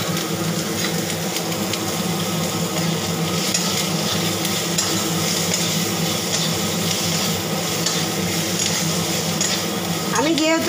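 Cumin seeds tempering in hot white oil after mustard oil, cooking dal, a continuous bright sizzle with occasional stirring and clinks of a utensil against the pan, close and steady throughout, ending with a short voice.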